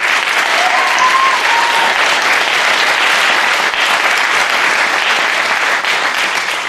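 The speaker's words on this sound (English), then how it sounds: "Let's hear it for Stephen Dunifer and everybody at Berkeley Free Radio." Sustained audience applause with crowd clapping filling the whole stretch at steady loudness, honoring a Berkeley pirate radio station, with no talk over it.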